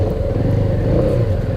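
Vehicle engine droning steadily on a farm-community countryside road near Bamban, Tarlac, a dense low rumble with light clatter, constant and close throughout, no talking.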